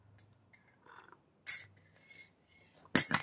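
Close, quiet mouth noises from sipping tea: a few soft slurps and wet smacks, with two sharper bursts of sipping sound amid near silence.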